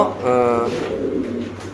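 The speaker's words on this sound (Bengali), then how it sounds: "শৌখিন কবুতরের ডাক দেখেন" Fancy pigeons coo nearby, a soft throaty warbling call rising and falling, with some background noise.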